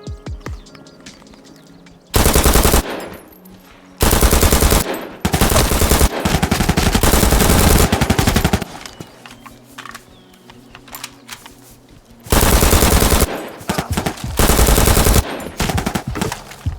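Rapid bursts of automatic gunfire from a weapon-customization shooter video game ring out in loud repeated volleys, separated by quieter stretches of game ambience and reloading sounds.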